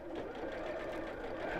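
A sewing machine runs steadily while stitching around a piece of fabric, its motor a continuous, fairly soft whir with a faint rapid needle pulse, close by and without talking.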